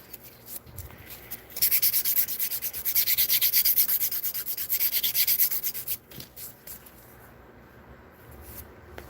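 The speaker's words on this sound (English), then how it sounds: "we're just going to go over this and just kind of buff it out a little bit" Buffing a red glitter nail surface to smooth out scratches, a steady close-up rubbing and sanding rasp in repeated strokes, loudest in the middle stretch and tapering into shorter, lighter passes.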